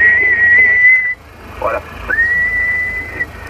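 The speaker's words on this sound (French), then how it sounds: "j'ai sifflé un petit peu là pour voir" A person whistles into a CB radio, holding one long steady tone, pausing briefly around a short spoken word, then sliding up into a second sustained whistle over a low background hum.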